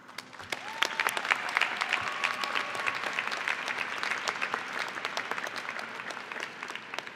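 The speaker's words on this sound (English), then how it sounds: "Applause." Audience applause at a Carnegie Mellon Heinz College diploma ceremony, a steady, fairly distant wash of many hands clapping that fills the hall without letting up.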